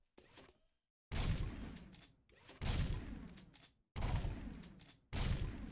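Scattergun blasts fired at targets on a shooting course in the video game Jak 2: four loud, booming shots with heavy low-end thumps, each decaying over roughly a second, separated by short gaps.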